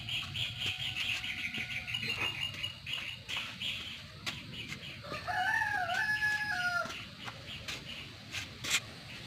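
A rooster crows once at a moderate distance, its drawn-out call rising over a busy outdoor background with other birds and scattered bumps.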